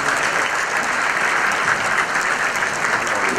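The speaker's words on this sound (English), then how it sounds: "Please, let's give a round of applause for the Prime Minister." An audience at a US-Egypt business forum at the American Chamber of Commerce applauds the Prime Minister, a dense, sustained round of clapping heard alone and close throughout.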